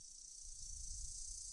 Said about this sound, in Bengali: বনের মধ্যে কোথাও যেন একটা ঝিঝি সবেমাত্র ডাকতে আরম্ভ করেছে।